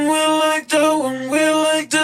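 A pop lead vocal is stacked with octave-shifted copies of itself and processed with Waves plugins, giving one sustained, harmonically rich sung phrase that breaks into two long held notes, loud and up front with nothing else around it.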